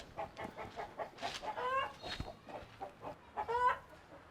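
Chickens cluck in short, irregular bursts, soft and fairly close, with a couple of louder squawking calls among them.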